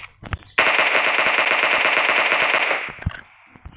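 Rapid automatic gunfire from the mobile video game PUBG Mobile, a sustained loud burst of closely spaced shots lasting about two seconds, followed by a few scattered single shots, with no talking over it.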